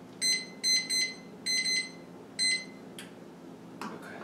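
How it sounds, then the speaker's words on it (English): A kitchen timer set for baking oatmeal cookies gives several bright electronic beeps in short bursts, then a few softer clicks as buttons are pressed, over faint room hum with no talking. "We're going to set the timer for 20 minutes."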